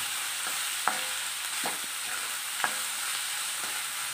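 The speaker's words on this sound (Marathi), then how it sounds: "हिरवी मिरची, लसूण टाकून घेऊया, कांदा टाकून घेऊया। छानपैकी असं परतून घ्यायचं आपल्याला।" Green chili, garlic and onion sautéing in a pan with cumin, a steady close sizzle broken by a few sharp scrapes and clinks of a stirring spoon.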